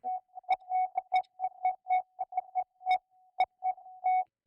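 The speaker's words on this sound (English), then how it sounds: "I think I accidentally just created a Morse code effect" A pure electronic synth sine tone from the Kilohearts Filtertable plugin pulses in irregular short and long bursts like Morse code, with occasional sharper clicks, steady and clear.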